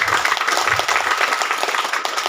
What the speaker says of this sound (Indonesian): Tepuk tangan untuk Sumatera Selatan.